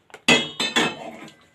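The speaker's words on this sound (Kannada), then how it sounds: "2 ಪಾತ್ರೆ ಮಾಡ್ತಾ ಇದ್ದೇನೆ" Two cooking pots being set out clink and clatter in a few sharp, close metallic knocks, the last one ringing briefly before fading, with no one talking.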